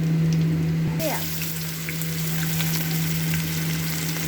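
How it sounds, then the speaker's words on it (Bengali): Onions frying in oil in a wok after cumin, garam masala, dried chili and bay leaf go in for a jackfruit and prawn dish. A steady close sizzle with a low hum underneath, a brief scrape near the start. "এরপরে দিয়ে দিলাম পেঁয়াজ।"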